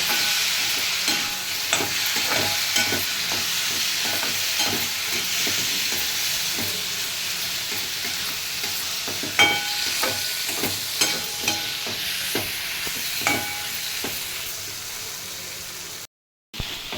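Boiled raw banana pieces with tamarind are stirred and fried in a pan, giving a continuous close sizzle punctuated by rhythmic scraping and clacking strokes of the spatula, with a brief dropout near the end.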